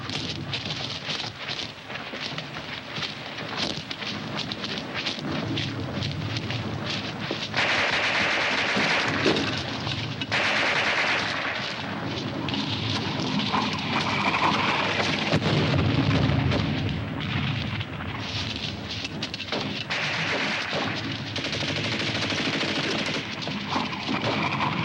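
Dense, continuous gunfire and artillery in a wartime battle, heavy blasts and rapid bursts overlapping for a long stretch with no pause, loud and rumbling throughout.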